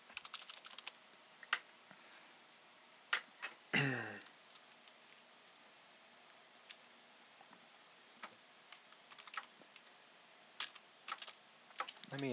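Quick bursts of keyboard typing, close and crisp, with irregular clusters of key taps separated by brief pauses in a quiet room.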